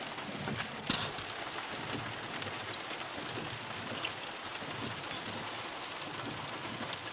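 Steady rain pours down continuously, a dense hiss of drops on surfaces with an occasional louder patter, no voices.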